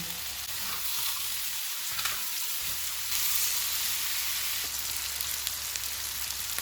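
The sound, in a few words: keema kababs frying on tawa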